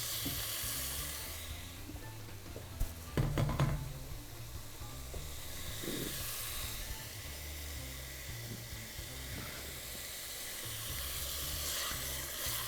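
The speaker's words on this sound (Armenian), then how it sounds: "պետք է շատ բարձր գրագի վրա դաբագենք։" Meat searing over very high heat in a pan for a sweet okra dish, a steady loud sizzle with a brief clatter of stirring around the third second.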